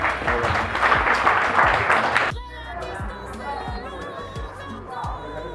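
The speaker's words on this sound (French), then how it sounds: "Veuillez applaudir s'il vous plaît." Wedding guests burst into loud, dense applause at a civil ceremony, the clapping dropping abruptly after about two seconds to a thinner spatter of claps under crowd murmur and chatter.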